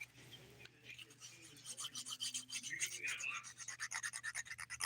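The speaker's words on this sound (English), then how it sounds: "I'm just quickly gonna smooth it" Steady rhythmic rasping of a nail file smoothing a dip-powder manicure nail, close and moderately quiet, with a brief faint voice early on.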